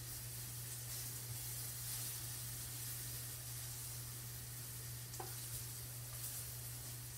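Liver and onions frying in a pan as they start to brown, a faint, steady sizzle and hiss running evenly throughout with a low constant hum beneath and one small crackle partway through.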